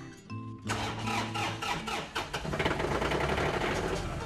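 A farm tractor's engine cranks with a few quick turns, then catches and settles into a steady, close-up rumbling idle.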